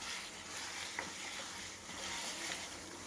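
Chicken ghee roast sizzles and splatters steadily in a pan, a soft, even crackle with scattered sharper pops, heard alone without any talk.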